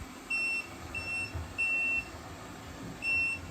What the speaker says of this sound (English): it projects a loud beeping noise, just in case it gets, stuck under any furniture or anything